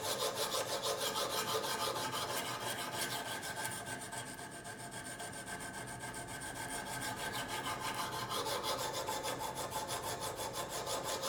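A knife blade drawn over a sharpening stone in a Kazak UBR system with U-adapter: a continuous gritty scraping of metal on stone in steady back-and-forth strokes, close and moderately quiet, with no voices.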